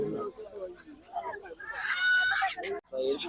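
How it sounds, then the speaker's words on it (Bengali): Small roosters crow and cluck at a poultry and bird market in Hemayetpur, with one clear crowing call in the middle, close and fairly loud, mixed with nearby talk. "হ্যাঁ এই যে মোরগ এখন একটু ছোট মোরগ"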